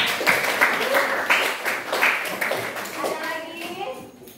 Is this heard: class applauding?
yes